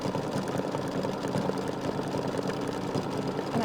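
An embroidery machine sews a small star, a steady, moderately loud mechanical hum with a fast rhythmic ticking underneath, continuous throughout with no voices.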